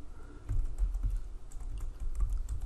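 Rapid keystrokes on a computer keyboard as a field name is typed into a box in data-entry software, coming in quick uneven bursts that are close and moderately loud, with no voices.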